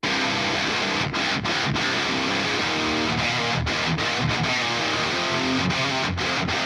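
Thick, saturated distorted metal electric guitar, two amplifiers blended, riffing continuously with a dense, full tone and short rhythmic breaks, played alone without drums.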